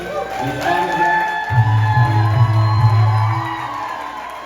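A wedding crowd at a Vivaah Sanskar ceremony cheers and whoops for the bridegroom's parents, a sustained burst of voices with a steady low drone beneath it from midway on.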